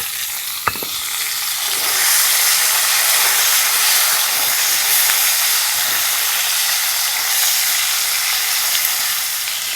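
Ginger, green chili paste and tomato fry in a pan for a Bengali potol recipe, producing a loud, steady hissing sizzle that swells after a sharp clink near the start and holds for the rest of the clip.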